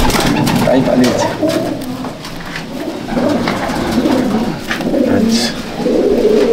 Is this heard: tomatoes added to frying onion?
no